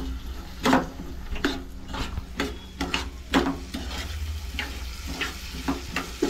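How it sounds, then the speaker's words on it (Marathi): Chana dal being sautéed in a pan, with repeated scraping stirs of a spatula at an uneven rhythm over a steady low sizzle, close and moderately loud, no voices. "ही परतून झाली आता डाळ"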